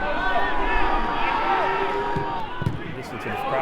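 Crowd at a football match in Dorking, a steady broad roar of many voices filling the air, with scattered shouts and thuds and a commentator talking over it.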